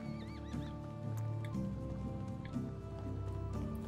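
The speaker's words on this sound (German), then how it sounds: "Dieses Pferd." A horse neighs and whinnies in the medieval farming game Medieval Dynasty, standing near a stable, its calls repeating over steady in-game background sounds and faint hoof clip-clop.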